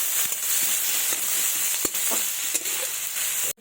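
Chopped onions and black cumin seeds frying in hot oil, a constant loud sizzle with scattered pops and stirring scrapes, then an abrupt clatter as it cuts off at the end.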